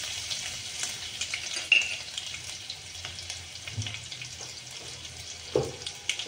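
Ginger garlic paste hits hot oil with cumin seeds and sizzles in a soft, continuous hiss, with a few faint clicks and pops rising above it.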